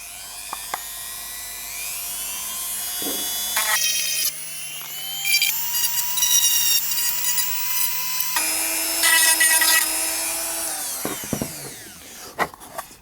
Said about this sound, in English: if you're using a Dremel, you set the sand in or the cutting discs too high, it will start to melt them